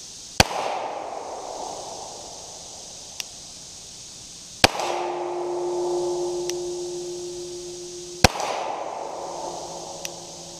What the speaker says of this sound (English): This is the first Glock 30 I've ever fired.